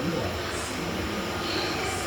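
Inside a moving MEMU express train, a steady, even rumble and hiss of the carriage at moderate level, with no distinct events in the brief stretch.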